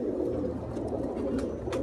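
Racing pigeons coo softly and steadily from close by, a low throaty murmur running throughout with no voices.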